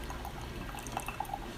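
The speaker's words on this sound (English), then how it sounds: "So I'm trying to pour this high." Hot water poured from a height out of a teapot for raw pu'erh tea, a soft continuous trickle and splash with small droplet plinks, fairly quiet and steady throughout.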